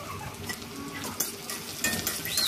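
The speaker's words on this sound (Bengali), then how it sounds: "সামান্য হলুদ আর কুচোনো পেঁয়াজ দিয়ে দেবো। দিয়ে নেড়ে নেবো।" Chopped onion and turmeric fry in a pan, giving a steady sizzle while they are stirred, with scraping and occasional metallic clinks of utensil against pan.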